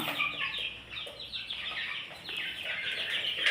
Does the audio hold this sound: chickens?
yes